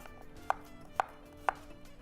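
A knife chops through cucumber on a cutting board while Turkish home-style dishes are being prepared, giving three crisp, evenly spaced chops about half a second apart against a quiet kitchen background.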